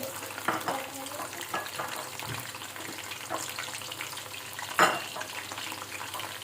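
Medium onions, four of them, dropped into hot oil in a pot for a degi-style chicken qorma, giving an irregular sizzle with sharp clattering bursts as pieces are stirred, no talking.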